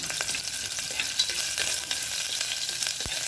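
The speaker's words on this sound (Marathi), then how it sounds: "आता कढीपत्त्याची पानं सगळं हलवून घेऊया." Curry leaves crackling in hot oil in a pan while being stirred, a dense, close sizzle with crisp pops and a spoon scraping the pan, steady throughout.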